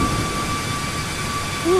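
Jet engines of a Boeing 737 MAX 8 climbing out after takeoff in the iFly flight simulator, a steady sustained roar with a faint tonal whine throughout, and a brief rising tone near the end.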